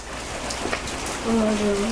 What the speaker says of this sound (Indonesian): Ini hujannya deras sekali.